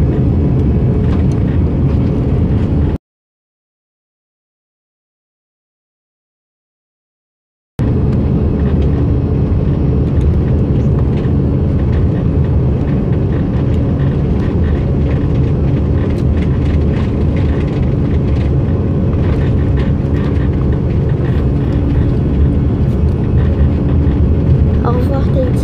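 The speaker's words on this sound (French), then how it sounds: "j'entends les moteurs gronder" Loud, continuous roar of jet aircraft engines with heavy low rumble, broken by a few seconds of silence, with voices at times over the noise.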